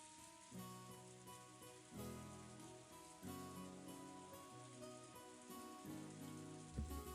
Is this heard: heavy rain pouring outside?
yes